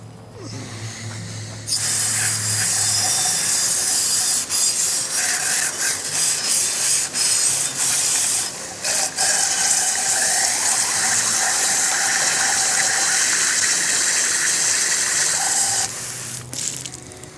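Water spray rinsing the lower unit of a Johnson TD 20 outboard after fresh gear lube and a new prop, grease seal and water pump, a steady loud hiss running about fourteen seconds with brief dips as the stream shifts.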